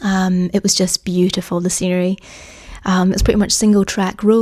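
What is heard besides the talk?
None of the usual background noises is heard.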